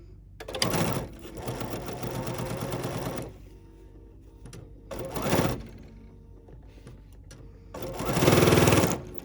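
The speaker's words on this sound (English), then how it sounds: "I'm going to put my presser foot down, remove my pin, and just stitch from like little crease mark to crease mark here where it was pinned" A domestic sewing machine stitches a crazy quilt block in three separate runs, a long burst of rapid motor whir first, then a short one, then a loud final run. Quiet pauses fall between the runs.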